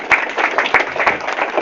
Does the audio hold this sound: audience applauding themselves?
yes